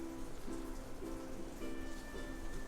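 Steady rain patters outside a hotel room at Disney's Polynesian Resort in Florida, a soft continuous hiss with faint tonal hum beneath it, fairly quiet and without voices.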